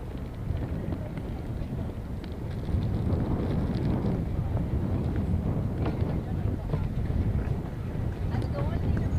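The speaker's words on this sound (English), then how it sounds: "The wind is really kicking in." Strong wind blows across an outdoor karting track at the Indian National Karting Championship, a continuous low, rumbling roar that buffets the microphone and swells slightly partway through.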